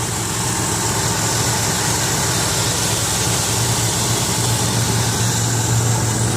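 A 2003 Ford Windstar LX minivan's 3.8-litre V6 idles steadily and smoothly, a loud, constant low hum with no revving and no voices.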